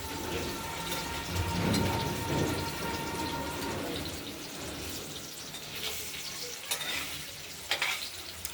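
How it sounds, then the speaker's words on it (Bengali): Paneer frying in a pan for a potato and tomato paneer curry gives a continuous close sizzle with soft spatters and occasional sharper crackles near the end, with no one speaking. "পনিরটা ভাজতে ভাজতে আমরা মশলাটাও বেটে নেব।"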